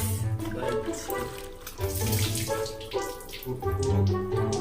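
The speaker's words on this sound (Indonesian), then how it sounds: "Kita bilas sih guys." Water runs for rinsing in a continuous splashing flow, mixed with tonal, melodic background sounds that rise and fall.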